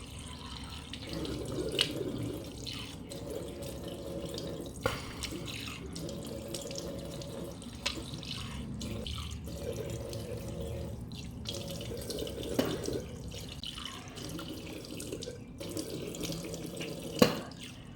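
Cold tap water runs steadily into a sink while skin is rinsed, a continuous close splash and gush with small dripping accents and brief interruptions.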